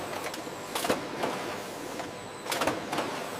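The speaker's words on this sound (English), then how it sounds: "Seaming machines lock freshness inside traditional sardine tins." A can seaming machine sealing traditional sardine tins in a factory runs with a steady dense mechanical whir, broken by repeated rhythmic clacking bursts as tins pass through, loud and close with no talk.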